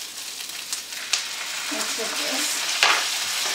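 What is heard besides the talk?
beef and onions frying in a pan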